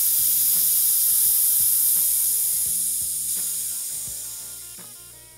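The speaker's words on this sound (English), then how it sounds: "depress the Schrader valve, and release the air pressure" Pressurized air hisses steadily from the Schrader valve of a WP AER motorcycle fork as it is held open, a bright continuous spray that slowly fades, with faint mechanical clicks and taps underneath.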